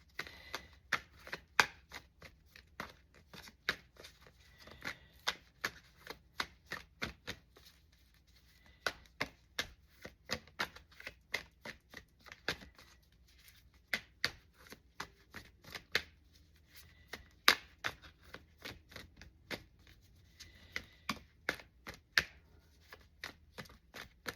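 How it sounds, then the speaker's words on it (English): A deck of tarot cards being shuffled by hand: rapid clusters of crisp riffling clicks and slaps, close and fairly quiet, repeating in bursts with brief pauses and no voices. "oh, let me shuffle them better"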